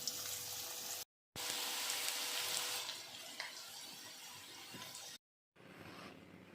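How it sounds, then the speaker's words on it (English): Marinated ivy gourd (tondli) pieces fry in hot oil with a soft, bubbling sizzle. The sizzle is broken by two short dead-silent gaps and grows quieter toward the end. "Now let's add Tondli pieces to hot oil."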